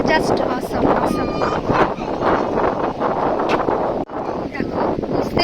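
Strong wind buffets the microphone at Burudi Lake in light rain among hills, a steady loud roaring rush with gusty swells that dip briefly near the end.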